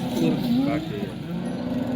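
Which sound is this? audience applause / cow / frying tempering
cow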